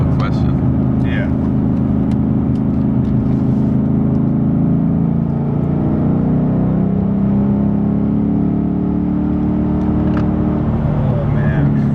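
A 2016 Ford Mustang GT Performance Pack V8 drones steadily while cruising, a loud low engine hum heard from inside the cabin with road noise and a few faint clicks.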